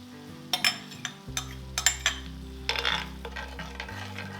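Heavy cream goes into a hot pan of garlic, giving a soft sizzle. A spoon clinks and scrapes against the pan in several sharp taps over a low, steady hum.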